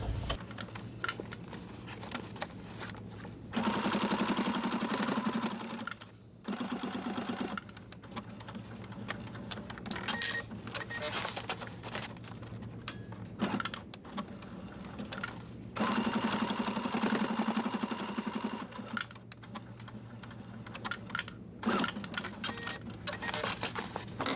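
A sewing machine stitches and back stitches a Kraft-Tex tote bag in long, steady runs of close mechanical whirring, with brief gaps and clicks between the passes.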